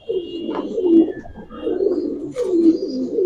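Giribaj racer pigeons coo close by, with several loud, throaty coo phrases in a row.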